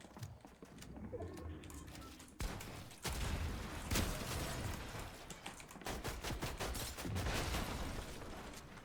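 Pump shotgun fire in Fortnite, heard as several sharp gunshot blasts at about 2.4, 3, 4 and 7 to 8 seconds over a steady bed of game sound and background noise, with no speech.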